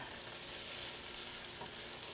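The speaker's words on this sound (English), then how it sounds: "Sizzling away nicely" Steady, dense sizzle of homemade hash browns frying in a hot pan, constant crackling hiss at low level with no talking.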